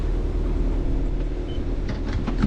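A sailboat's auxiliary engine runs while motoring out of a marina toward Catalina Island, giving a steady low drone and hum with faint rattles and no talk.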